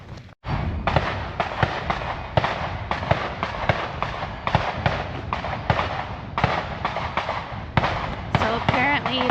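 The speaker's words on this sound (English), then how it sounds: "So apparently there's a gun range right across the canal." Gunfire from a gun range just across a canal on a Florida trail, a rapid irregular string of sharp loud cracks going on and on, with voices talking underneath.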